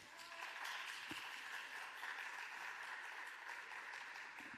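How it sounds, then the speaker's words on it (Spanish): Applause from a forum audience on water economics rises for the panelists after a discussion, a fairly quiet, even patter of many hands heard from some distance and sustained throughout. "Un aplauso para ellos."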